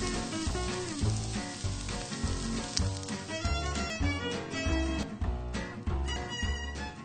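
Ground meat frying in butter in a pan, a loud, steady sizzle that crackles continuously throughout with no talk over it.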